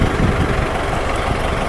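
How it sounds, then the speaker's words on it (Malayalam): A modified used jeep idles with its AC running, giving a loud, steady engine rumble and a dense whirring drone from the belt, with no voices. "ഇതിപ്പോ AC ഇട്ടാറുണ്ട്. ബെൽറ്റിന്റെ സൗണ്ട് ആണ്."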